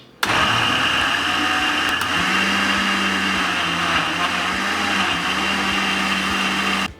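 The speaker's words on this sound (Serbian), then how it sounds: "Poklopit ću i sve ću ovo izblendirati." Kitchen blender whirring steadily as it purees chopped watermelon with lemon juice, a loud continuous motor drone from start to finish with no talking.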